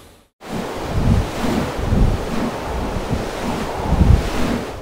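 Strong wind and waves at sea in rough weather aboard a research ship, a loud continuous roar of gusting wind over the microphone with surging wash of water, no voices.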